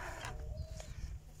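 Chickens cluck softly nearby in short, uneven bursts over a low background rumble, on a farm during fodder beet harvest.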